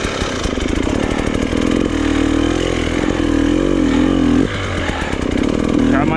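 A dirt bike engine runs through a forest in Romania, loud and close, its pitch rising and falling with the throttle as it pushes over rough ground, with a rider's voice speaking over it.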